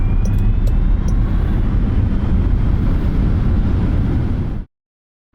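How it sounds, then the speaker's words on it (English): Jaguar I-Pace electric car accelerating at full throttle, a loud continuous roar of wind and road noise with a faint rising whine, cutting off abruptly to silence near the end. "Full stop and then full throttle."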